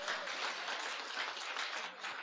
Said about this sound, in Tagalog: Palakpak ni Jesus.